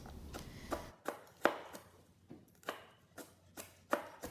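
A knife slices through leafy green stems on a cutting board for a blanched salad, giving about ten crisp, evenly spaced chops that are close and distinct, with no talking.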